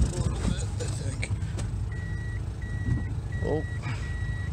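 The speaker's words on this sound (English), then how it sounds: "Gotta back the car up a little bit," A car slowly backing up, with a faint low engine rumble and a series of evenly spaced reversing beeps in the background, plus a few brief clunks and murmurs.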